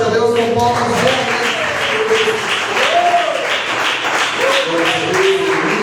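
A church congregation claps together in worship, a steady wash of applause mixed with voices calling out, lasting several seconds at close range.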